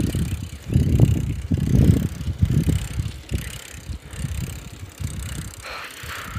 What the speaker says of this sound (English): If you hear any noises, from my bike because something's messed up in it.